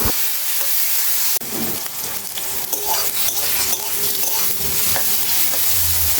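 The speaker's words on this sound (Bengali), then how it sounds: "এবার প্রথমেই নুন হলুদ দিয়ে বেগুনগুলোকে ভেজে নামিয়ে রাখবো।" Brinjal pieces fry in mustard oil with salt and turmeric, a loud steady sizzle with a sharp clatter just past one second, then repeated stirring scrapes and pan knocks over the hiss, no voices.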